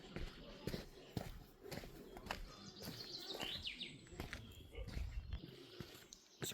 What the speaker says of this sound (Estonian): Linnud karjuvad ka nii kõvasti.